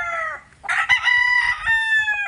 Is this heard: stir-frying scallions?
no